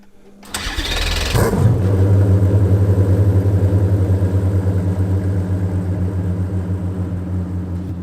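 A Koenigsegg Jesko engine cranks and fires up after a short starter whir, then settles into a loud, steady, deep idle rumble close by, with no voices.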